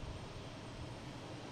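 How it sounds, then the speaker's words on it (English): An American Embraer E175 airliner taking off from Boston Logan International Airport, a faint, steady distant jet roar with a broad rumble and no distinct events, heard from a spotting spot. "Oh, we have an American taking off first. E175 to LaGuardia."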